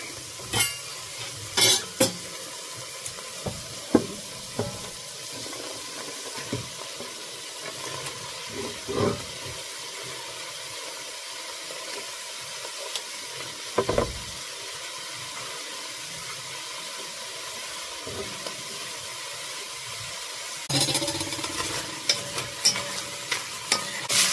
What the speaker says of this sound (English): now we're going to go ahead and add our onions and garlic